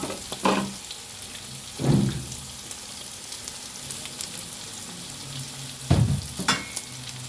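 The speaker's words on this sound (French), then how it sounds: "mes légumes sont presque finis de frire" Vegetables and onion fry in a pan for veg fried rice with tofu, a continuous soft sizzle broken by a few louder bursts where ingredients are stirred or tossed, close up and without speech.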